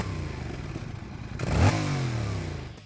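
A Yamaha MT-07 motorcycle engine idles with a steady mid-pitched rumble, then a single sharp rev swells loudly before settling back to a busy, droning idle, close and alone.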